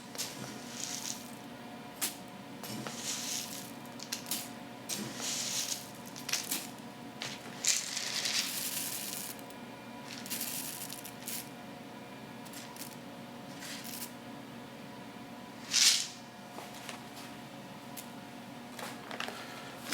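Pecans and rolled oats are stirred into a cowboy cookie dough, giving soft, intermittent squishing and crunching scrapes with occasional brighter clicks, quiet and close, with no talking.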